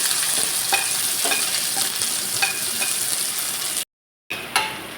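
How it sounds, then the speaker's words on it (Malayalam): Chili, shallots, garlic and curry leaves sautéing in hot oil, a dense crackling sizzle with occasional utensil clinks and scrapes, close by, briefly cut to silence near the end before resuming. "വെച്ചിരിക്കുന്ന മട്ടൻമുളകും ചെറിയ ഉള്ളിയും വെളുത്തുള്ളിയും കൂടി ഇട്ട് നന്നായിട്ട് വഴറ്റാം"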